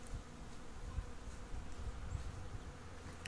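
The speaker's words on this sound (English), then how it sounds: "listen to the bees in the tree." A steady, low buzzing hum of many honey bees in a tree, continuous and fairly faint, heard outdoors on a warm day with no talking.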